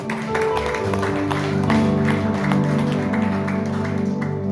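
A church congregation at a Sunday worship service claps together over sustained keyboard chords, with crisp hand claps scattered across a moderately loud, continuous musical bed.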